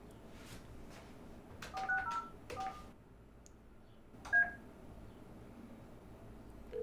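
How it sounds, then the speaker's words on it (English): Keypad tones from a Yealink T54S desk phone dialing a test call to its own extension, a quick run of short beeps followed by a single later tone, faint over a quiet room hiss. "I'm going to go ahead and make a test call to my own extension."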